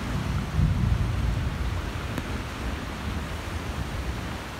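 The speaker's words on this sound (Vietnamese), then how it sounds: "Trời hiện tại cũng đang mưa nữa." Steady rain falls outdoors on a rocky coast in rural Quang Tri, Vietnam, a dense, even hiss with a slight swell near the start and no voices.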